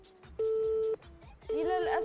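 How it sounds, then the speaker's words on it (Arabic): Telephone line tones on a TV call-in show after the caller's line cuts off: two steady beeps, the second under overlapping voices, with talk between them. "للأسف انقطع الخط أصدقائي"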